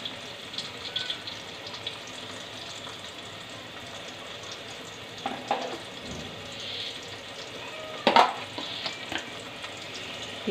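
Garlic paste frying in a pan of oil with bay leaf, cardamom and cinnamon for a mung dal muri ghonto, giving a steady soft sizzle with a few brief clatters and stirs.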